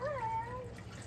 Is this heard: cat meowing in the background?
yes